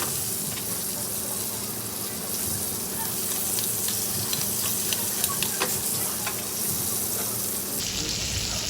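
A ribeye steak sears in a hot pan, giving a loud continuous sizzle with scattered spits and pops close by and no talking, then a brief metallic click near the end.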